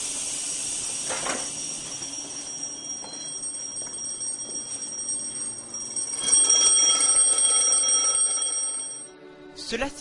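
An alarm clock's bell rings continuously at a steady, close, fairly loud level, swelling slightly toward the end before cutting off, with no talk over it.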